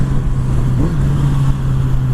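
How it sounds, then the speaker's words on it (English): Kawasaki Z900RS motorcycle engine fitted with an Akrapovic exhaust, a steady loud drone at speed with heavy wind rush buffeting over it, the tone rising slightly as the bike pulls. "Motor sounds great."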